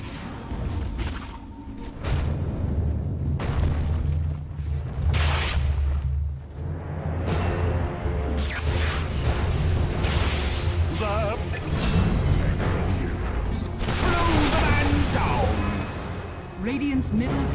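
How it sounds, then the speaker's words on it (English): Dota 2 match with a tower being attacked and collapsing: booms, thuds and crashing impacts with whooshing effects, a heavy rumble throughout and a dense burst of crumbling debris near the end. "Dire's middle tower is under attack."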